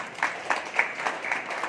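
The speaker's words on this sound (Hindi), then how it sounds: "बेईमानी से ताली बजाते हो" An audience at a Durga temple gathering claps in a light, steady patter of applause, close and moderately loud, with faint speech mixed in.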